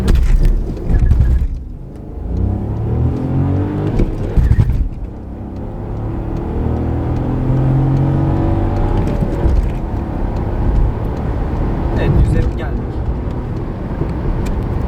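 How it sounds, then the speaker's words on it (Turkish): A 2020 Volkswagen Golf accelerates hard from a standstill on a straight road during a 0-100 km/h run, its engine rising through the gears from inside the cabin while someone talks over it. "Bir 0-100 testi yapacağız şimdi."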